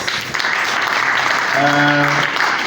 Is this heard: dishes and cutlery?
no